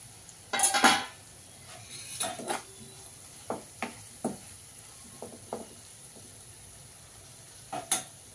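Capsicum being stirred and fried in a pan, with a metal spoon scraping and clinking in a burst of sharp strokes, then several spaced single taps against the pan over a faint background sizzle.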